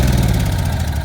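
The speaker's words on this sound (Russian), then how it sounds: "Генератор" A petrol electric generator running outdoors in -30 frost before it has warmed up, a loud steady engine drone close by, brief and continuous.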